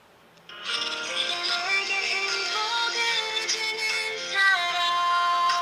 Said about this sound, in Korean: 컬러링이 좋네.